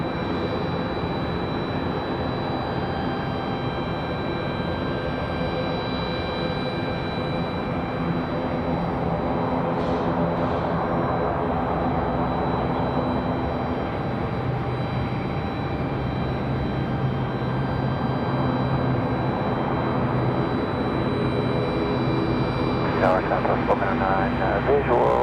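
An ATR turboprop's engine drones steadily at Raleigh Durham International Airport, a constant loud roar filling the whole stretch, with people speaking over it and a brief sharper burst near the end.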